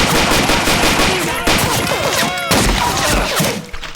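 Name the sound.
gunfire shots in video game Blade of Agony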